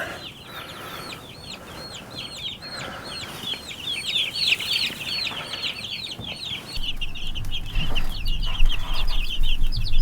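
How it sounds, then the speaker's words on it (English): Fifty-two Cornish cross baby chicks on a farm, kept under a blanket, cheep in a busy stream of high, repeated peeps from a close, dense flock, with a low rumble building toward the end. "So what we have here are 52 healthy Cornish cross baby chicks."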